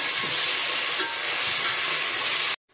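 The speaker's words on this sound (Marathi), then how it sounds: "मी हे 2 चिरलेले टोमॅटो टाकते. मिक्स करून घेऊया हे आपण." Two chopped tomatoes fry in about a cup of oil for chicken biryani, giving a dense, even, close sizzle and hiss that stops abruptly at the end.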